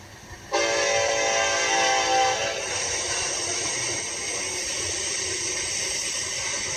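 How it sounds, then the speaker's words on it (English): A Norfolk Southern mixed freight train approaches a railroad crossing with a loud, sustained horn blast that cuts off, leaving a steady rumbling roar of passing cars. "Norfolk Southern Mixed Freight Train 195 coming up the Sandusky District"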